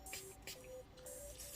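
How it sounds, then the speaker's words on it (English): Milani Make It Last matte setting spray is misted onto a face in about three quick, soft, close-up spritzes, with no talking. "To spray my face, I'll be using my Milani Make It Last setting spray."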